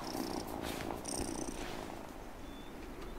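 A cat purring softly while being petted in the game Wylde Flowers, a steady close rumble that continues for a few seconds with nobody talking.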